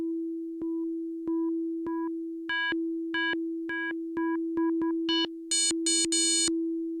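A steady FM synthesizer tone with the modulator output level being raised, turning a plain sine-like pitch into a series of short repeated notes that grow brighter and richer in overtones toward the end, heard alone and fairly loud.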